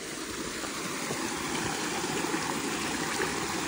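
Cold mountain stream in a national park rushing steadily, a loud continuous broadband water wash close by, with someone washing hands in it and no talk.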